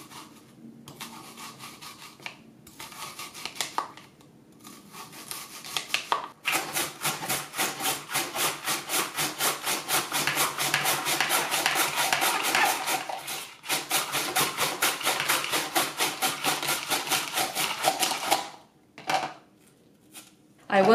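Onion slices on a Swissmar Borner V-1001 V-Slicer Plus mandoline, a fast steady run of rasping strokes, close and fairly loud, preceded by a few scattered scrapes and ending in brief pauses.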